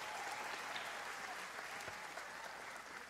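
Church congregation clapping for a newly appointed youth ministry coordinator, a faint, steady patter of many hands heard from a distance.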